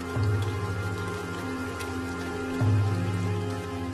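Heavy rain pours steadily, a dense hiss of drops spread across the whole clip, overlaid with a low sustained hum, with no voices.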